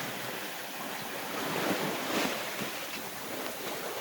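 A sailing boat on a broad reach, steered by a hydrovane around Britain, rushes through the sea: a steady, close, broadband wash of waves and wind noise that swells slightly midway, with no voices.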